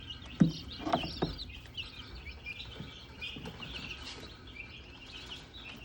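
Young turkeys and chickens, including bantams, lavenders and Easter eggers, chirp and cluck softly in a pen, a few sharper peeps early and then scattered faint calls over low background noise.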